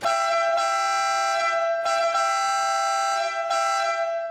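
A loud, steady Citroen DS town and country horn, the louder of its two horns, blares continuously with a brassy tone, briefly dipping a few times before sounding again.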